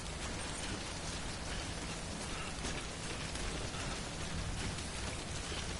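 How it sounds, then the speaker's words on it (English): Timefall rain in the Death Stranding video game, a dense, steady hiss of falling rain with a faint mechanical ticking underneath, constant and unbroken. "Oh, it's timefall."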